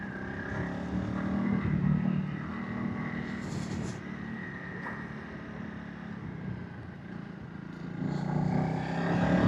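A 2025 Honda CRF300 Rally motorcycle riding along quiet back lanes, its single-cylinder engine droning steadily near the microphone with wind rush and slight rises in revs at the start and end.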